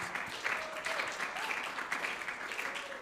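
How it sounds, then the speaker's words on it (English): A live audience applauds a speaker being welcomed at a talk, a steady wash of clapping that runs evenly throughout, with a faint tone or voice threading lightly underneath. "let's give Paul a round of applause"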